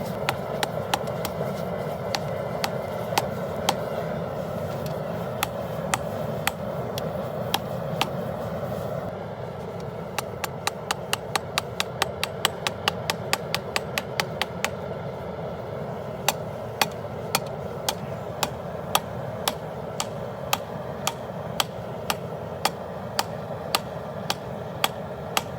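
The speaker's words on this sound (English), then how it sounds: "I really don't know why I'm using this hammer." Steady hammer blows ring out on hot steel as a survival knife is forged from an old rasp, sharp metallic strikes repeating in irregular runs with a rapid flurry in the middle, close and loud over a low forge roar.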